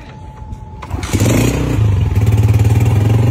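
A fuel-injected motorcycle, a 1404 model, starts without a battery: a short steady tone, then the engine catches about a second in and settles into a loud, rapid, even idle.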